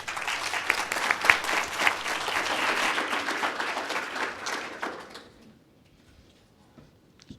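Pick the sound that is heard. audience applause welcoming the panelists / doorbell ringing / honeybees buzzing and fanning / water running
audience applause welcoming the panelists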